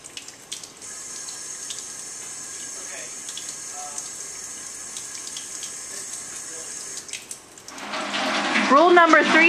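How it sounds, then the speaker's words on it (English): A chemistry lab sink tap runs steadily while hair is washed under it, a constant even hiss of flowing water; near the end a louder, busier burst of sound takes over. "Do not use the chemistry lab sink to wash your hair."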